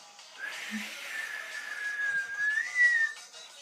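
A single person wearing dental braces whistles a wavering, sliding tune for a few seconds, fairly close and clear, with no talking.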